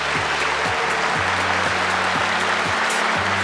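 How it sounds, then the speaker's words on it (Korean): A large audience at a South Korean government policy report event bursts into sustained applause, a dense, steady wash of clapping that holds at a loud, even level for the whole stretch, with faint tonal music beneath. "박수 부탁드립니다"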